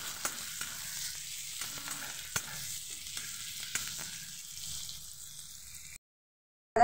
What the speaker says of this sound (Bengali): পেঁয়াজটাকে আমি খুব ভালোভাবে ভেজে নেব